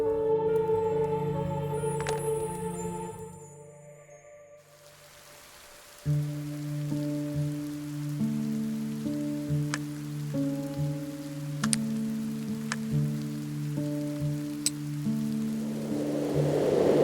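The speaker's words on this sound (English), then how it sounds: "Has the rain stopped?" Rain falls steadily in a mystery detective adventure video game, a soft constant hiss that fades away and then returns beneath gentle melodic game music with light plinking tones.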